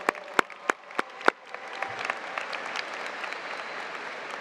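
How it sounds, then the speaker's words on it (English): Applause at a high school graduation begins with a few sharp, separate claps, then swells into a continuous wash of clapping from the audience, moderately loud and without talk. "Let's give them a round of applause."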